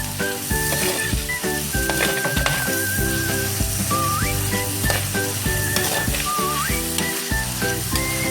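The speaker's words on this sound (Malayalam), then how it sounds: "ഈ 3 ഉള്ളിയും കൂടി നമുക്ക് നന്നായി വാട്ടിയെടുക്കാം." Onions sizzle and sauté in a pan for a fish curry, the frying steady under prominent background music with melodic tones, with occasional stirring and no talking.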